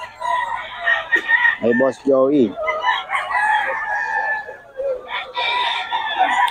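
Roosters crow in a busy, crowded chicken market, with short harmonic crows rising over a dense din of clucking birds and overlapping voices of vendors and buyers talking nearby.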